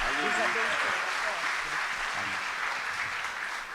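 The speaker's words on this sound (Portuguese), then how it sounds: "aplauda ao Senhor por essa noite maravilhosa." A church congregation applauding, a steady, dense wash of clapping from many hands that holds for the whole stretch, with a voice speaking over it at the start.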